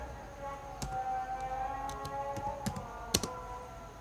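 Computer keyboard typing in an MS Word document, a sparse run of quiet key taps and clicks over a soft steady background hum.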